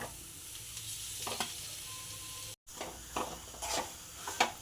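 Mashed potato, green chili, salt and masala are stirred in a hot pan to make filling for palak aloo paratha. Scraping strokes repeat in a loose rhythm over a soft sizzle, close and moderately quiet, with one brief dropout.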